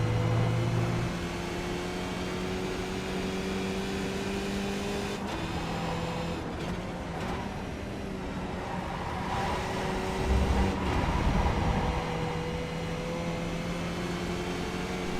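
A race car in the iRacing simulator accelerating out of a hairpin at Oulton Park's Island Historic circuit, a steady engine drone with shifting pitch, gear changes and a louder surge on the gas near the end, with no talk.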